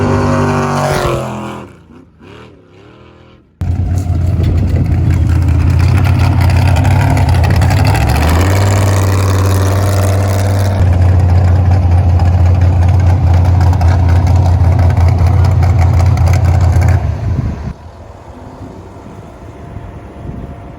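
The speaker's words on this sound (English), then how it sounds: "Getting ready to make another pass in that King 4400 car" The King 4400 drag race car's engine roars, loud and close, rising from a low idle into a sustained thunderous run that shifts pitch midway, then drops back to a quieter rumble near the end.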